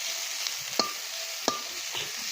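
Food frying in a pan while being stirred, with a steady bright sizzle and a few sharp scraping strokes of the spoon, close and alone.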